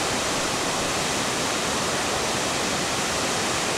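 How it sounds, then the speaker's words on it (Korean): Guryong waterfall at Mount Kumgang drops white water from about 50 metres in the upper Okryu valley. It makes a constant, dense, even roar with no breaks and no voices. "50m 높이에서 쏟아지는 하얀 물결이"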